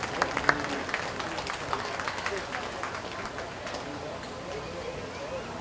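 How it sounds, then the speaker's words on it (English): Applause for a steer in the ring at a 4-H market beef show at a county fair, a moderate crowd clapping with a few sharper early claps, then tapering into scattered, softer patter. "Please give him another round of applause."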